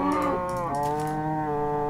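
Cows in Minecraft let out a long, loud, close moo with a drawn-out wavering tone that dips in pitch partway through, and no voices are heard.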